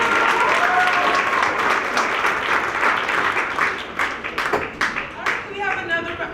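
A school assembly audience applauds after a performance, loud dense clapping that thins into scattered individual claps toward the end, with voices and cheers mixed in.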